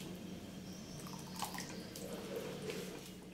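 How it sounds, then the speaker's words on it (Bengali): A little water is poured into fish curry gravy with yogurt in a pan, giving a faint, steady liquid trickle with a few light splashes and no talk. "দিয়ে দিলাম আরও সামান্য একটুখানি জল মাছের গ্রেভিটার জন্য"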